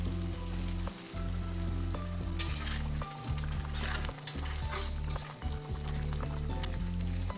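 Chicken masala sizzles and bubbles in a pan as warm water goes in, with a steady hiss, stirring scrapes and light clinks of a utensil against the pot over a low hum.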